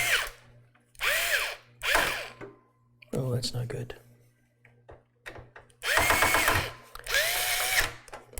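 A power screwdriver drives screws into motherboard standoffs in an NZXT PC case, giving several short whining bursts of motor spin and clicking, close by, with a person speaking briefly between runs.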